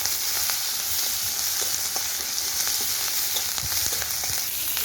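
Onion and chili fry in hot oil for dalma, a steady dense sizzle with small popping crackles throughout, close and fairly loud.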